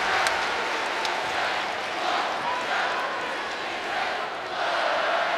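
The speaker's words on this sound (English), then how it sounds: "this crowd has not had much to cheer about, and they are so live" Basketball arena crowd at an NC State Wolfpack women's game against Louisville, a dense, continuous roar of cheering and shouting that swells and dips slightly, loud and filling the space, with an announcer's voice faintly mixed in.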